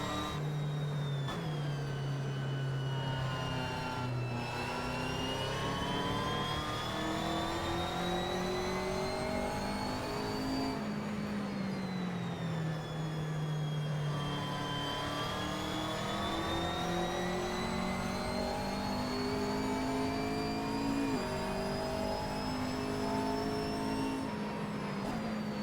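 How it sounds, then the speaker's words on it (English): Whiny race car engine in Assetto Corsa on PS4, sustained and loud with repeated rising revs and dips at gear changes, an opponent's car passing close by. "they've gone for quite a whiny noise on this particular car, haven't they?"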